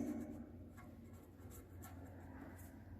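A pen writes on paper while a table of subjects and marks is drawn up, with soft continuous scratching and a few faint strokes, close and quiet over a low background hum.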